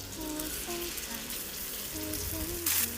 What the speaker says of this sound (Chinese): 在锅里面倒入食用油，把包子放进去煎一下